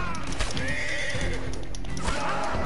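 A horse whinnies loudly and close in Red Dead Redemption 2, its call rising over steady hoof clip-clop and dense game ambience throughout.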